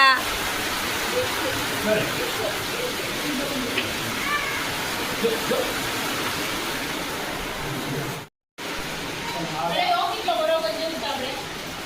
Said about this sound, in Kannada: ಜೋರಾಗಿ ಮಳೆ ಬೀಳ್ತಾ ಇದೆ